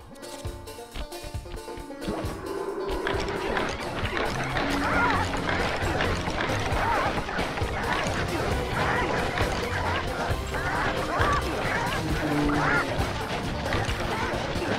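Bobtoten roosters in the Sly Cooper video game squawk and cluck in a dense, frantic stream as they are whacked over and over, with thumps and clattering hits mixed in and no pauses.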